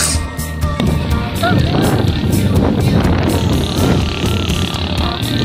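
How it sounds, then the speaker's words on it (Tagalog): Steady gusty wind at Tando Beach in Infanta, Quezon, Philippines roars across the microphone with a broad rushing noise, continuous and fairly loud throughout, with faint background sounds underneath. "Hangin."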